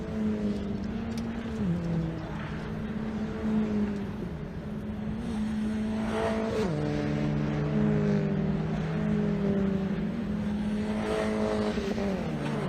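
Race cars drive through a corner on a circuit, engines holding steady high notes, then dropping in pitch and climbing again as they lift and accelerate. The sound carries at moderate distance with no talk.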